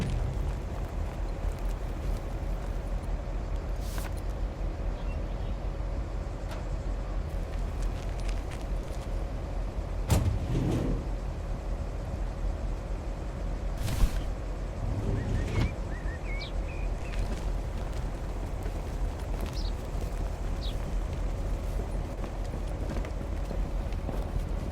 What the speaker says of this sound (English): Driving along the highway.